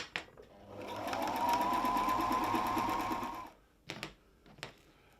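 Sewing machine stitching fabric for a briefcase, a steady close whirring run of about two and a half seconds that stops, followed by a few short clicks and bumps.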